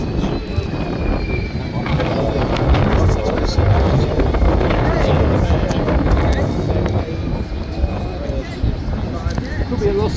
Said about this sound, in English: Sounds like a big jet coming out.